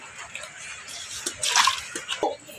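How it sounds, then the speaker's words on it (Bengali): Carp fish being washed by hand in water: uneven splashes and sloshing bursts that swell toward the middle, close by, over a quiet background. "মাছগুলা ফাইন্দা ধুয়ে লিতেছি।"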